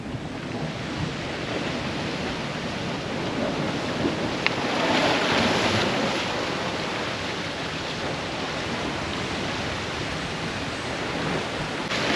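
Ocean waves wash below a cliff on Sumba Island, Indonesia, a broad, continuous surf roar with wind buffeting the microphone, swelling slightly midway, no voices.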